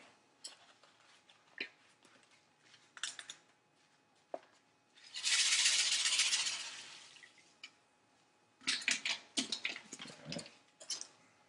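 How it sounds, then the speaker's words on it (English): Bentonite is stirred vigorously into a wine kit fermenter, giving a loud swishing, sloshing rush of liquid in the middle, framed by scattered close clinks and knocks of plastic equipment being handled. "the instructions say to add the bentonite, and stir vigorously."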